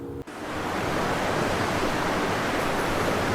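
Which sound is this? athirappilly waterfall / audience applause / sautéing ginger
athirappilly waterfall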